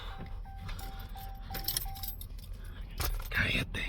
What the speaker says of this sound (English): now that's just the keys